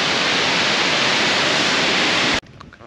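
Waterfall in Iceland's Westfjords gives a loud, steady broadband roar that fills the scene, then cuts off abruptly near the end, leaving quieter ambient sound.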